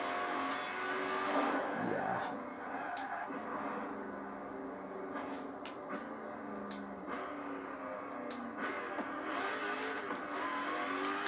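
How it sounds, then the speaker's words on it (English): A car in the racing game Forza Horizon 4, driven with a manual gearbox and no clutch, drones on steadily with engine pitch rising and falling through gear changes, with no talking. "Yes, I am driving manual without clutch this time."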